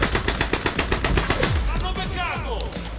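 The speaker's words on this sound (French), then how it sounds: "Lui, il a une grosse mitrailleuse." Heavy machine gun fire in a video game, a rapid rhythmic burst of shots at a steady cadence that then gives way to a rising, whooshing sweep, fairly loud and close.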